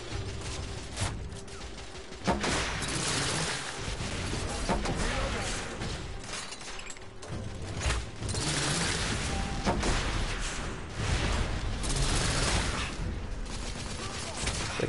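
Enemy gunfire sounds in The Order: 1886, dense bursts of shots and rattling fire keeping up across the whole stretch, loud and busy, with a player talking now and then.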